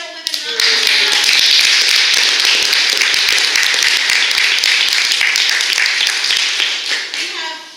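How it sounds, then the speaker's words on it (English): Audience at a West Seattle Democratic Women candidate forum gives a round of applause, dense close clapping that rises quickly and holds steady for several seconds before tapering off. "I do want to give just a West Seattle Women round of applause."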